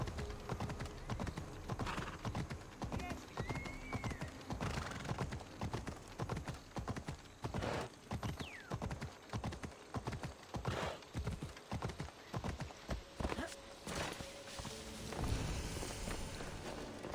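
Steady clip-clop of horse hooves walking at an even rhythm in a video game, continuous throughout, over a faint background ambience.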